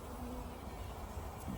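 A dense, steady hum of many honey bees buzzing close by around caged virgin queens fills the whole moment without pause.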